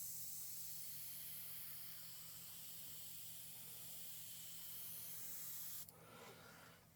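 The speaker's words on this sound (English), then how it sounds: "let's see how much paint we can push out" A cheap AliExpress dual-action gravity airbrush sprays paint with a steady, fairly quiet hiss that runs evenly before cutting off near the end.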